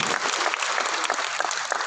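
Audience at a motivational business rally in Patna clapping loudly, a brief burst of dense, close applause with scattered sharper individual claps.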